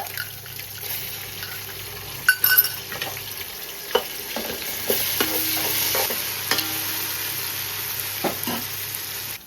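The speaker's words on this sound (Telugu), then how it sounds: "ఇప్పుడు అల్లం వెల్లుల్లి పేస్ట్ వేసుకుందామండి. ఒక 2 స్పూన్లు అల్లం వెల్లుల్లి పేస్ట్ అండి." Ginger garlic paste sizzles in hot oil in a pan while a spoon stirs and scrapes it, a steady close frying hiss broken by several sharp knocks and clinks.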